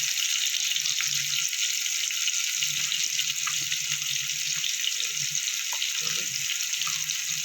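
Potato pieces with salt and a pinch of turmeric frying in a pan, a steady, close hissing sizzle with occasional soft clinks and scrapes of stirring, no voices.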